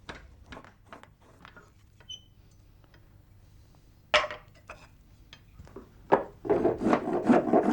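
Boxwood spoons being rasped and scraped by hand with a scraping blade and rasp, giving intermittent wooden scrapes and rubs that build into a louder, continuous rasping toward the end.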